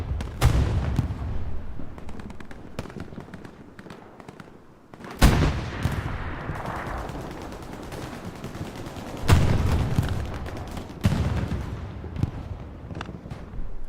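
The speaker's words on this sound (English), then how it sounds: "accompanied by a bombing run" Gunfire and explosions from a bombing run in the Hell Let Loose video game on a Utah Beach map, with heavy blasts near 5 and 9 seconds over steady battle rumble and scattered shots.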